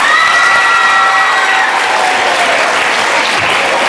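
Sustained, loud clapping fills a school hall during National Science Day celebrations, steady applause from a large audience with light cheering mixed in.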